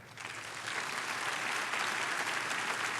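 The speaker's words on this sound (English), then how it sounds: "There's Wells, there's very sudden cut off of the applause." Crowd applause in the snooker video game Snooker 19, a steady dense clapping that starts abruptly and continues at an even level for a few seconds with no voices over it.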